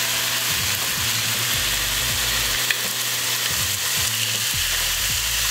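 Onions and oil sizzle loudly in a hot pan as home Chinese-buffet cooking gets underway, a steady close-up frying hiss with scraping stir strokes running through it and no talking.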